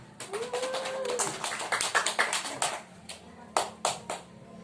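A primary school class claps after a presentation, with a burst of sharp, uneven claps that thins out into a few scattered final claps, and a voice is briefly heard near the start.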